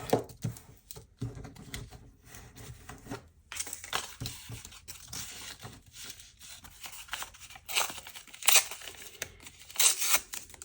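Paper folded up at the back for a seaside junk journal page, heard as close, irregular crinkling and creasing handling sounds with sharper rustles and crisp bursts toward the end.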